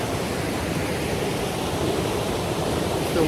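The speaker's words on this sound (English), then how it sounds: "It's the waterfall from the mountain." A mountain waterfall near Taggart Lake in Grand Teton pours in a steady, broadband rushing roar, continuous and fairly close with no voices over it.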